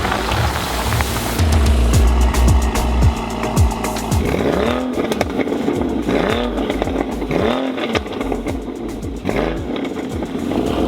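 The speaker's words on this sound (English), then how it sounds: "this is my last drive in my 2015 Cayman GTS" A 2015 Porsche Cayman GTS drives hard and loud, its engine revving up and down through repeated accelerations with tire noise, heard up close with no talking.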